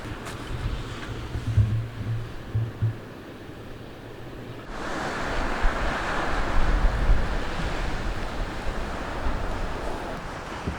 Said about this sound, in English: Here's a bit more blustery, as you might be able to hear